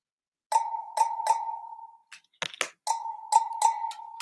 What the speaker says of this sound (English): Pots and pans and wooden spoons.